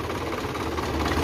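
A Ragasa 120 PS truck's turbocharged diesel engine with intercooler runs at a steady idle, a close, loud knocking rumble with no talking.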